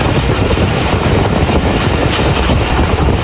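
A passenger train running on the rails between Multan and Lodhran Junction in Pakistan, a loud, steady broadband rumble with a continuous rolling rattle that fills the whole clip close by, with no talking.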